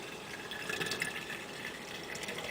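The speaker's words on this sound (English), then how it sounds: "I like to pour off some of the broth into a separate," Broth from sprouted wheat is poured into a small thermos, giving a steady close trickling and splashing of liquid that lasts the whole short moment without talk.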